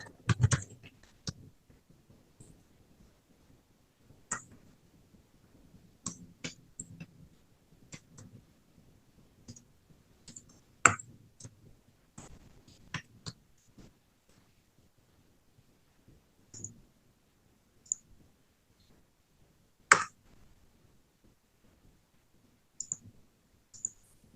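A computer mouse clicks sporadically, single and double clicks scattered across a quiet stretch, close and faint.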